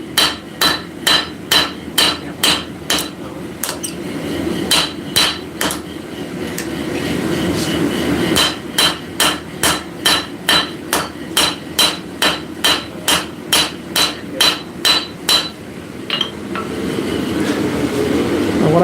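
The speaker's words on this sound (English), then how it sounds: "straight peen gives me length" Straight-peen hammer blows on hot metal during blacksmith forging, a long steady series of loud, evenly spaced ringing strikes in runs with brief pauses, close up, with no talk.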